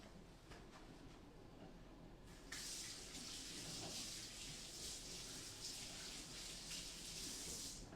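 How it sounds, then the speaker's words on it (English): Kitchen sink tap switched on partway through, water running steadily into the basin for hand washing, a continuous broadband rush close by with no talk over it. "I'm going to wash my hands real quick."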